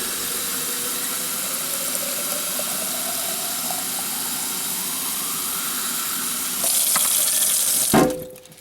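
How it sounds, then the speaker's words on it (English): Water runs from a kitchen tap into a jar for cooking pasta, a steady hiss and splash that rises in pitch as the jar fills, then swells louder before the flow stops abruptly. "I'm just going to fill up my jar."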